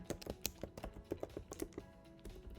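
Quick, close typing on a computer keyboard, a steady run of light clicking keystrokes at a brisk, uneven rhythm, fairly quiet with no talking over it.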